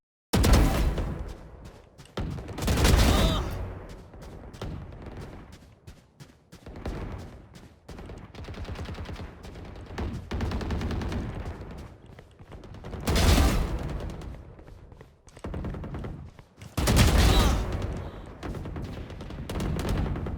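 Vandal rifle gunfire in the video game Valorant, loud bursts of rapid automatic shots with sharp heavy blasts spread across a sustained stretch of battle noise.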